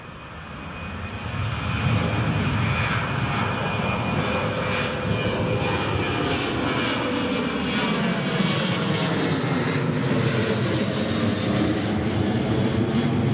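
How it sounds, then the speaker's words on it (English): A TUI Boeing 787 Dreamliner jet airliner at Newcastle International Airport gives off a steady, loud engine roar that holds for the full stretch and rises slightly in pitch near the end, with no voices over it. "There's our TUI Dreamliner for today"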